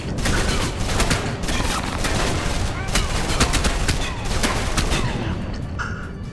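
Heavy gunfire in the video game Alpha Protocol, rapid shots crackling almost nonstop at close range and high level, easing off slightly near the end.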